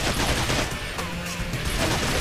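Enemies fire at the player in a video game set at the Grey Rock Refinery, a sustained, loud barrage of rapid gunshots and bursts of automatic fire that continues throughout without pause.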